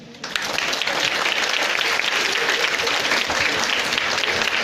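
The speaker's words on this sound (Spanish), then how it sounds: "recibamos con un fuerte aplauso al doctor Son Sun-taek" A lecture audience gives loud, dense applause to welcome the visiting speaker, a Korean professor of Spanish, starting abruptly and holding steady throughout without any voices over it.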